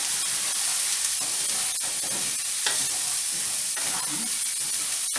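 Vegetables and onions stir-frying in a hot pan, a loud continuous sizzle and hiss with repeated scraping and tossing of a utensil, close up.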